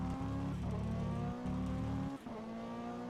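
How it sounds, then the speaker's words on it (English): GT3 race car in rFactor 2 at the Valencia circuit, engine droning steadily near and loud, with a rumbling thud as it runs over a curb before the note drops briefly. "God, I hate the curb sound in this thing though."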